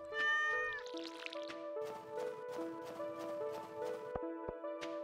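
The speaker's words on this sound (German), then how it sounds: "Miezu Katze." In the video game Stardew Valley, a cat gives a clear meow at the start, followed by light game music and soft tapping footstep sounds.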